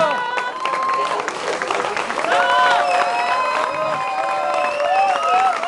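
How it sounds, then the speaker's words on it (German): Audience at a music ball applauding and cheering for performers on stage, a steady loud wash of clapping and crowd noise with voices and tonal sounds layered over it. "Danke für den Applaus."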